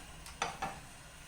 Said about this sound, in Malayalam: നമുക്കിതിലേക്ക് വറുത്ത് വെച്ചിരിക്കുന്ന ഉണക്കമീൻ ഇട്ട് കൊടുക്കാം.